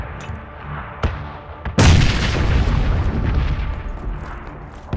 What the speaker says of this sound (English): one guy probably heard the grenade going off